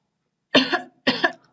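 A person coughs three times in quick succession, dry and close, each burst short with a brief pause between, in a quiet room with no talking.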